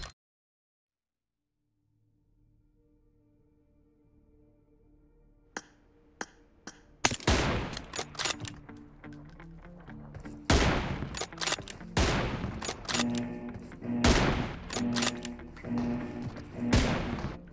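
Gunfire in the mobile game BGMI during an M24 sniper room match rings out in single sharp shots, then builds into dense, loud bursts of rapid fire that continue to the end after a near-silent start.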